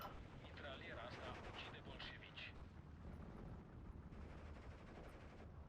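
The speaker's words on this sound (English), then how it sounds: "Man, these mortars, man." Mortar fire in Steel Division 2, a faint rumbling barrage of distant blasts and crackling impacts running continuously, with a voice talking over it.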